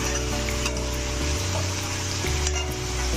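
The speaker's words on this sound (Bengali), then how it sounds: "পেঁয়াজগুলোকে একটু লালচে করে ভাজতে থাকবো বেশ খানিকক্ষণ।" Chopped onions sizzle steadily in a hot pan while mutton curry is being made, a continuous close frying hiss with occasional soft scrapes from stirring.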